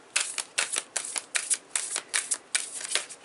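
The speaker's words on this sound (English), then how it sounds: "I'm going to shuffle them real good, and then I'm going to cut them to get a card from them." Large tarot cards riffle in about nine quick, papery bursts, evenly spaced and close, with no talking.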